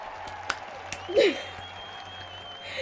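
A brief applause sound effect triggered as a livestream alert, a short burst of canned clapping and crowd noise that lasts about a second among a few soft clicks in a quiet room.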